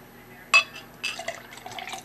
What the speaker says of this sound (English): Pour it aggressively like I've been taught and how I've been told by many people.